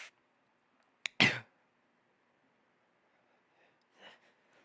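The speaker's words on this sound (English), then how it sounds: "Pardon me for that cough" A single short, forceful cough bursts out close by after a brief throat catch, then quiet room tone follows with a faint breathy rustle near the end.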